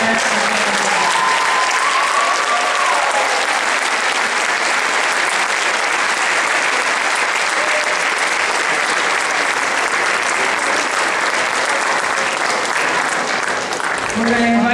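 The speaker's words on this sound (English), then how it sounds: "please give a round of applause, not just to our seniors, but to their parents and families" An audience at a senior class event applauds seniors and their families with loud, sustained clapping filling the whole span, with a few voices calling out beneath.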